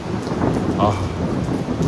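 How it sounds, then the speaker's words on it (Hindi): Rumbling thunder over steady heavy rain and wind, a continuous loud outdoor storm wash with a low roll of thunder, no talking. "बादल भी गरज रहे हैं।"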